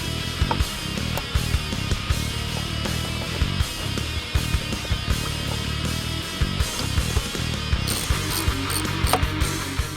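A ratchet wrench tightening bolts on the mounting plates of a Maximum Motorsports roll bar in a 2005-2014 Ford Mustang, rapid close clicking in repeated bursts with metallic clinks, no talking.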